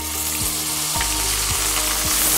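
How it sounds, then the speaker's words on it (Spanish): Chopped onion and garlic frying in melted butter for a small sofrito, a steady close sizzle with a few soft stirring knocks spaced through it, no voices. "vamos a hacer un pequeño sofrito, un recaudito para agregar nuestros charales"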